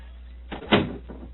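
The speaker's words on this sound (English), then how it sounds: "Please close the door behind us" A door in a monastery cell in an old radio drama thuds shut, a single close, dull impact with a brief rattle before and a short settling sound after.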